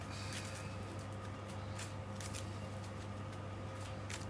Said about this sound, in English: deck shuffled up anyway